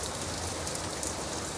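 Steady rain patters on car windshields, a dense, even hiss of drops that is continuous and moderately loud, with no voices.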